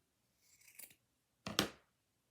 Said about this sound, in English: then you're going to cut the bottom